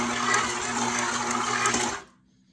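A stand mixer kneading challah dough runs with a steady loud whirring hum, then cuts off sharply near the end into quiet.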